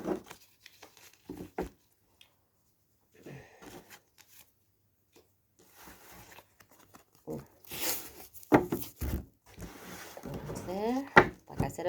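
A deck of tarot cards is shuffled by hand, producing soft, intermittent bursts of riffling and card-on-card rustle in a quiet room. The bursts grow busier toward the end, with some talking mixed in.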